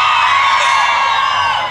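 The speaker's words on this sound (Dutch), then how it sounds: "Misschien kunnen we vragen of ze even willen schreeuwen of zo." A large crowd shouting and cheering together, a loud sustained roar of many voices throughout, easing off slightly at the end.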